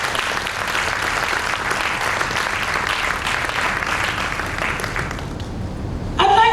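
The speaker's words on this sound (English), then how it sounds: "I'd like to ask you to give them a big round of applause." Sustained round of applause from an audience at an International Women's Day business event, steady dense clapping filling the room for several seconds, with a brief louder burst near the end.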